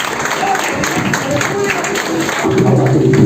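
A church congregation at an evangelical service breaks into sustained applause, a dense, steady wash of clapping that swells slightly toward the end, with voices and a faint tonal backing blended underneath.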